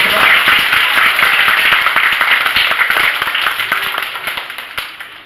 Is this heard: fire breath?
no